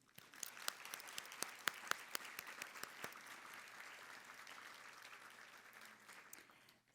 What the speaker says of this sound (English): Please join me in giving a round of applause to our sponsors for their invaluable partnership.